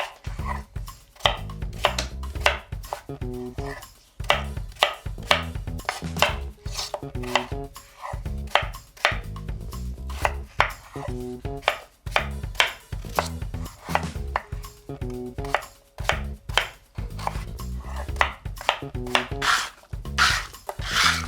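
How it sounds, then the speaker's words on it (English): A knife chops potatoes into pieces on a board for a potato gratin, giving a steady run of sharp, close, fairly loud cuts with short pauses, and no talking. "Cut the potatoes into pieces."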